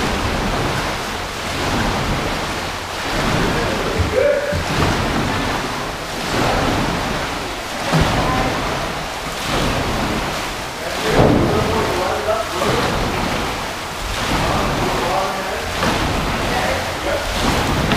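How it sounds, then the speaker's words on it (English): Paddle blades splash into the water during winter paddling training, with a rhythmic, repeating wash of splashes and water noise across the whole stretch and voices faintly mixed in. "See that splash you've been getting? That's because you're driving down with your hands."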